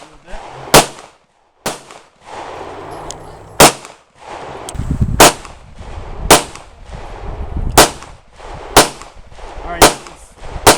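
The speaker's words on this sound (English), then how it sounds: "this is 5 rounds of little brass case ammo" A New Frontier AR 45 rifle firing brass case ammo, loud sharp close shots spaced a second or two apart, with a short spoken word near the start.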